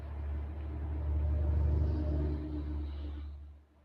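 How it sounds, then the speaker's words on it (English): Truck passing by outside, a low steady rumble that swells to a peak mid-way and fades away at the end, heard alone without voices. "That truck shall pass."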